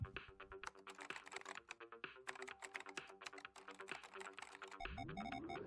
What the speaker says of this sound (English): Typing on a old ass Mac.